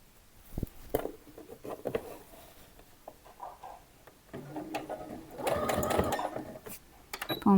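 A sewing machine stitches the hem of a summer dress in short stop-start bursts, with mechanical clicks and fabric handling between runs and a longer steady stretch of stitching near the end.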